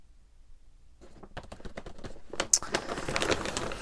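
A plastic bag of junk-journal crafting supplies crinkles and rustles as it is handled, starting after a second of near silence and building into dense, close crackling.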